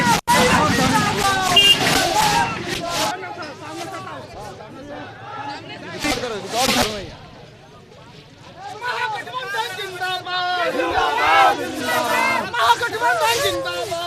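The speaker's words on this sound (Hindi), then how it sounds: "पूरे समर्थन के साथ यहाँ पे नारेबाजी चल रही है" A crowd of political supporters at a nomination rally chants slogans, with loud, dense voices rising and falling over steady crowd babble throughout.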